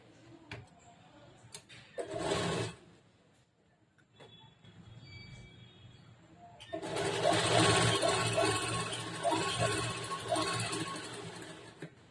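A sewing machine stitching a folded, joined blouse strip runs in a short burst, pauses, whirs faintly, then hums steadily and loudly for several seconds, close up with no talking.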